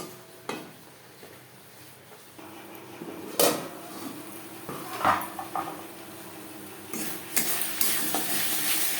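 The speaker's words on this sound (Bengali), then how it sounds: "লো টু মিডিয়াম ফ্লেমে 3-4 মিনিট মশলা বেশ ভালো করে কষিয়ে নেব।" Spices cooking down in a pan with a little water over low to medium flame for a pabda fish curry, with soft sizzling under intermittent scraping and stirring, sharp utensil clinks around the middle and toward the end.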